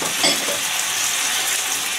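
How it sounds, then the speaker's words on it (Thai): Crispy pork ribs stir-fried with holy basil in a pan, a loud continuous sizzle with scraping stirring noises near at hand, no talk over it. "ตอนนี้เราก็ได้เลยนะคะผัดกะเพรานะคะ"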